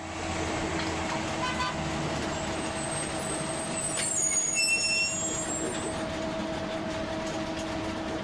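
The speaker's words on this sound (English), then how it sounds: "pulling up in the bus outside" A bus pulls up outside, its engine rumbling steadily with a low droning hum and faint hissing and squeaks on top, continuous and fairly close for several seconds with no talking.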